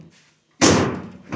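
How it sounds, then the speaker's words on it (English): A 1980 Triumph TR7 door swings shut in a single solid slam after a quiet pause, the thud close and loud and fading briefly, with no talk over it. "and the door closes nice."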